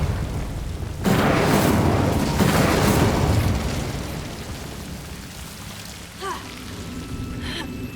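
A Confringo blasting spell in Hogwarts Legacy bursts with a loud, broad roar that swells from a sudden onset, rumbles for a couple of seconds and fades into a crackling, rain-like hiss, with faint later sparkles.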